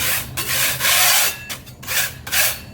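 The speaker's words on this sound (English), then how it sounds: "So you want to grab a scraper. And we're gonna scrape the whole thing" Rough, rasping scraper strokes across a hard pool deck, repeated in several bursts with brief pauses between them, close and fairly loud.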